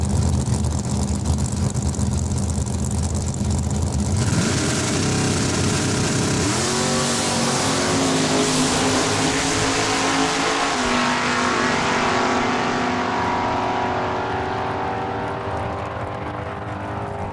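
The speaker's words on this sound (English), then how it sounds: "Anita Hendry will get the head start with the 68 Barracuda." Drag racing cars, including a 1968 Barracuda, launch and accelerate down the track at Saskatchewan International Raceway, with a loud engine roar that rises in pitch as the revs climb and sustains for many seconds, no talking.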